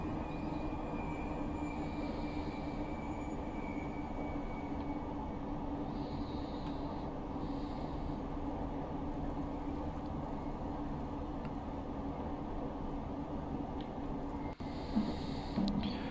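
An S8 stock London Underground train runs in Train Simulator Classic between Amersham and Harrow-on-the-Hill, with a steady low rumble of wheels and motors, an occasional faint high whine, and a brief clunk near the end.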